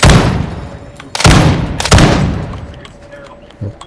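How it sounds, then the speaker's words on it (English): Bursts of automatic gunfire in Call of Duty: Modern Warfare II, three loud close volleys with fading echoes and a fainter shot at the end. "Oh, somebody shooting."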